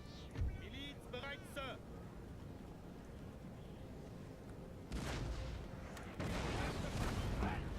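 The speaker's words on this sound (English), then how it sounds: "the first shots of engagement have rung out" Musket volleys and artillery fire crackle and boom across a Napoleon: Total War battlefield, a distant rolling fusillade that swells in bursts, with a voice talking at the start.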